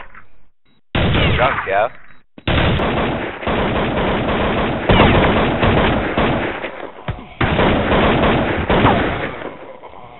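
Rapid gunfire from the Counter-Strike video game rattles almost continuously, with short breaks, loud and close. Players talk over it the whole time.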